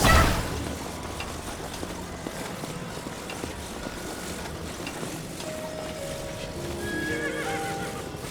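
A horse in Zelda: Tears of the Kingdom neighs loudly at the start, then its hooves clip-clop steadily beneath a light ambient game soundscape with soft musical tones near the end.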